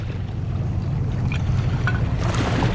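Waves wash steadily on a mudlarking shore, a continuous loud rushing wash with heavy low rumble and wind buffeting the microphone, no voices.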